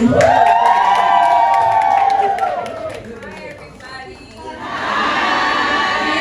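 A crowd at a makeup masterclass claps and cheers loudly with whoops and shouts, a voice rising over the noise, which dips briefly before the applause surges again.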